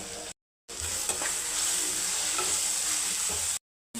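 Onion, tomato and spices frying in a pan for a bitter gourd palya: a steady, moderately loud sizzle with light crackle and a few soft stirring scrapes, and no talking.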